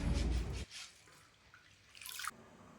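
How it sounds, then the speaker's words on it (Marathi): Sorghum grits being rinsed in water by hand, a loud sloshing swirl at first, then quiet, followed by a short bright splash of pouring water near the end. "या कण्या मी 2-3 पाण्याने धुवून घेणार आहे"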